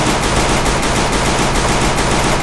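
Rapid automatic gunfire in the mobile battle game Free Fire, a dense, loud and continuous stream of shots with no pause.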